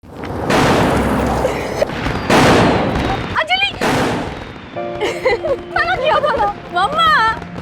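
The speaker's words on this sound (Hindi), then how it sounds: "बहुत हो गए पटाखे, बस हो गया, हो गई दिवाली।" Firecrackers burst during Diwali celebrations, loud booming cracks with roaring bursts, followed by whistling, warbling fireworks over a steady background din.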